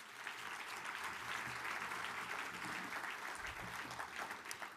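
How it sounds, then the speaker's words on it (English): Steady applause fills a banquet hall at the 20th annual Post Best Banquet, a dense wash of clapping that holds evenly at moderate level for the whole stretch. "Let's have a round of applause for 20 years."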